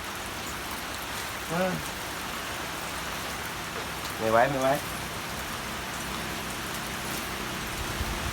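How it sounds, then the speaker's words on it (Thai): Steady heavy rain that has poured all day, a constant hiss, with a person speaking briefly twice under it. "ฝนตกทั้งวันเลยครับ"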